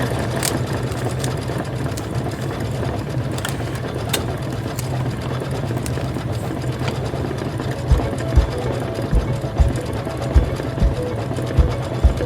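An embroidery machine stitches the back fabric onto a fabric bag held in a flipped hoop, a close, continuous mechanical whir that later picks up a regular thumping needle rhythm, with no voices.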